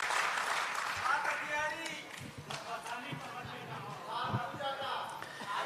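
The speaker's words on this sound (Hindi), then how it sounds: "एक बार जोरदार तालियां बजा दीजिए" An audience at a Hindi poetry recital in Bhopal applauds, a dense patter of many hands clapping steadily for several seconds with some crowd noise mixed in.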